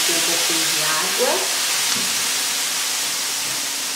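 Water hits a hot pan of frying pork with onion, giving a loud, steady sizzle and hiss close up, with faint stirring and no talk.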